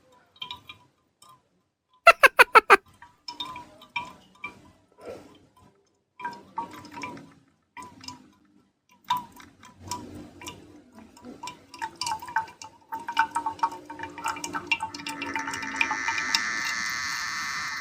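Coffee drips out of a press, starting as sparse single drops and a short sharp clatter, then quickening into rapid close drips that run together into a thin trickle by the end, with no talk.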